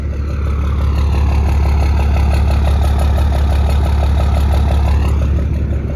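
A Spartan armored vehicle engine idling at close range, a loud, steady, deep rumble with an even mechanical pulse that runs unbroken throughout with no voices.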